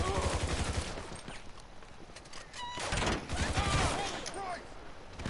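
Rapid gunfire rattles almost without pause in a chaotic GTA V shootout, loud and close amid game sounds, while a player's voice speaks over the action.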